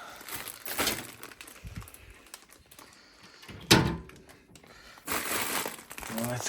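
A LEGO Greengrocer model 10185 is lifted out of a display cabinet, with crinkly handling rustles, a sharp knock near the middle and bursts of rattling movement, all close by.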